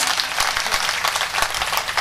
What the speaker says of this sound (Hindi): अच्छा लगा तो तालियों के साथ बताइए